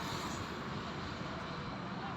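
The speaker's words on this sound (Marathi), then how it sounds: "आणि ही पनवेलवरून विमान आता आपल्या या एअरपोर्टवरती लँडिंग होत आहे" An IndiGo domestic airliner comes in to land at Navi Mumbai International Airport, its engines a faint, steady distant rumble and whine lasting a couple of seconds.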